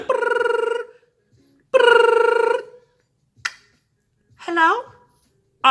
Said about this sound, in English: I feel like getting on the phone calling London.